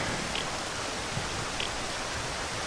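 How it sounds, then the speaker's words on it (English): Steady rain in the video game Zero Sievert, a dense even hiss of falling water holding at constant loudness throughout, with faint scattered drop ticks and no voices. "And it's raining."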